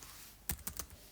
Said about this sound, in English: I will tell you a keyboard shortcut. It is Control Z.